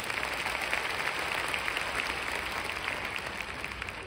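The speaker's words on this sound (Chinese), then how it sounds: "真的给 Vivian 一个热烈的掌声。" Sustained applause from a large audience at an event, dense and even clapping that fills the whole stretch without a break, with no voices over it.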